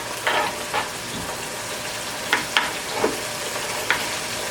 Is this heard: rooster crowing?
no